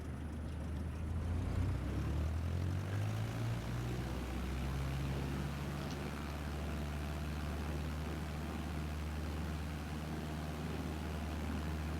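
An airplane engine in a flight video game spools up, its drone climbing in pitch over a few seconds and then holding as a loud, steady roar.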